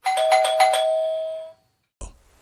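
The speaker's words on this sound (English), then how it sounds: "I rang the doorbell" A doorbell rings loudly in a two-tone ding-dong chime that rings out and fades, followed by a brief soft thump after a short silence, a sound effect in horror story narration.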